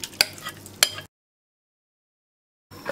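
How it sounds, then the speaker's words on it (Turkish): A spoon stirs soup with egg yolk and broth in a pot, two quick scraping strokes up close, then a stretch of silence before faint kitchen noise returns. "Kaynayana kadar sürekli karıştıracağım."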